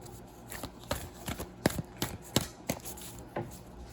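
Crisp, intermittent riffling and snapping of a tarot card deck being shuffled close by on a table, in short bursts with brief pauses between, the table shaking slightly.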